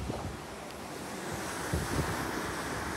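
Sea surf washing onto the shore at sunset, a steady broad wash of waves with wind buffeting the microphone throughout and a slightly louder swell near the end, no voices.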